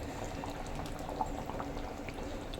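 Kerala-style hotel fish curry simmering in a pan: soft, continuous bubbling and gentle popping, quiet and close, with no voices.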